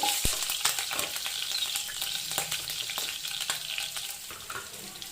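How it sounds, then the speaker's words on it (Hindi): Green chili and cumin sautéing in hot oil for a kale chana masala, a bright, steady sizzle up close with occasional spoon taps and stirring, no voices. "इसमें ग्रीन चिली जो ज़ीरा था वो डाल देंगे अपन इसमें, और फ्यू सेकेंड के लिए सौटे कर लेंगे इसे"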